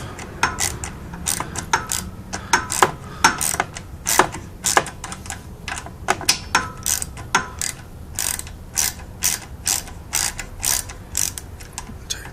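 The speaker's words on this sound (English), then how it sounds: "Use a small ratchet for the simple fact that it's a small motor and we don't want to put too much torque onto anything." A small ratchet removes bolts from a small lawnmower motor near the carburetor. Its loud, close pawl clicks come in steady repeated bursts with short pauses between them, and there is no talking.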